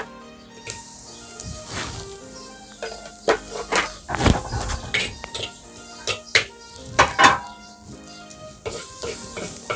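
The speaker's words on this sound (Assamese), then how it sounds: "পিঁয়াজখিনি ভাজি ল'ব লাগিব এই বিনা তেলত বনাইছোঁ" Onions dry-frying in a pan without oil, with a soft background sizzle beneath frequent spatula scrapes, clinks and knocks on the pan at an irregular rhythm.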